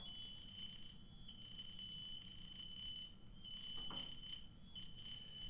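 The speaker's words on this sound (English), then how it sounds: "That is the fire alarm going off." A fire alarm sounds inside a building, a faint, continuous high-pitched electronic tone over a low rumbling background.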